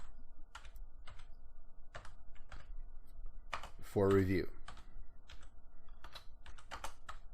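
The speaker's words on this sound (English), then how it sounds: "Sorry, I'm typing one-handed" Computer keyboard typed one-handed, quiet irregular clicks scattered across the moment, with a few brief spoken words and a short louder burst midway.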